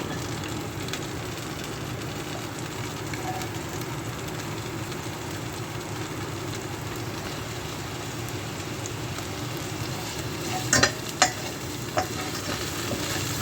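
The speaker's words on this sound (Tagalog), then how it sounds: "haluin lang siya" Eggplant frying in a pan with garlic and ginger is stirred, giving a steady, dense sizzle throughout with a few sharp utensil scrapes and clinks near the end; no one speaks.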